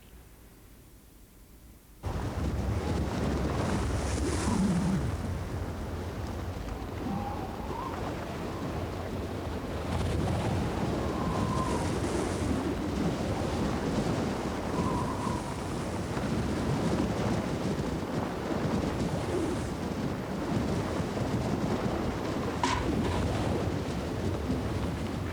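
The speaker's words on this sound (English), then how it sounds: "the wind is west at 55, gusting to 63 miles per hour" Strong west wind gusting to about 63 miles per hour at a cold, cloud-covered mountain summit in winter roars as a continuous, loud, broadband rush with surging gusts and no talk.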